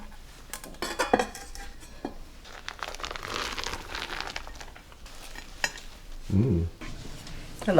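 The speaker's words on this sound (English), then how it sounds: "you can hear the moistness of the cake as you cut through it" A moist gluten-free clementine cake is sliced with a cake server: soft scraping and squishing strokes mixed with light clinks of the utensil against a plate, close and intermittent, with no talking.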